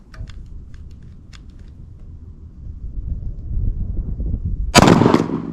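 A single Glock 26 pistol shot fired outdoors at a target 80 yards away. A sharp, loud crack comes late, after several seconds of low wind rumble and faint distant ticks, and no one speaks.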